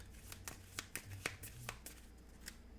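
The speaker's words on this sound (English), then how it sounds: "I'm assuming the rest of these go back and we shuffle." A deck of playing cards being shuffled during a Marvel Champions card game, giving a quiet run of brisk riffling flicks and soft taps at close range with no talk.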